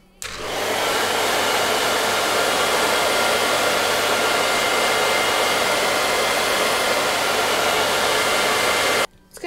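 A hair dryer blows steadily on crown sections of hair brushed backwards for lift, a loud continuous airy roar that starts abruptly and cuts off near the end, with no talking.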